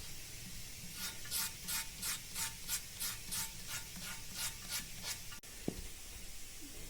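Wet sandpaper is rubbed back and forth over carved stone in a regular rhythm of about a dozen short, scratchy strokes, close and moderately loud, followed by a brief knock and quieter handling.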